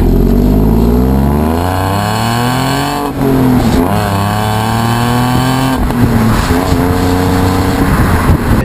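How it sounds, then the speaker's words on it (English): A stock 2015 Ford Mustang V6 engine revs loudly up and down in several sweeping pulls, close and alone, its pitch climbing and dropping between revs. "one thing about the V6 that's huge is the sound of it."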